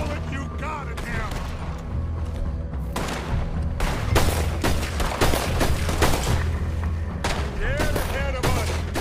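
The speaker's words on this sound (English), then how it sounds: "Put every bullet you got in him!" Sustained gunfire in Red Dead Redemption II, dense volleys of rifle and pistol shots cracking close and loud for the whole stretch with booming impacts, mixed with a background score and no clear talk.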